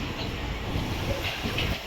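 Steady rumble and hiss of the 07110 Banaras–Narasapur train arriving at Bhimavaram Junction, with a low continuous drone filling the whole stretch and no clear voices.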